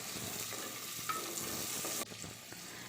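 Roughly chopped onion sautéing in oil with cardamom and cinnamon for a chicken handi, a quiet even sizzle with a few soft stirring scrapes, close and without voices.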